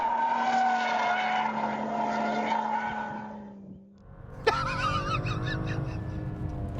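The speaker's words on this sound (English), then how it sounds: "of course we're going to do some drifting, you know, I mean, it's a BMW, isn't it?" A BMW 435i drifting, its engine note rising and falling before a sharp, loud tire squeal breaks out and holds with wavering pitch.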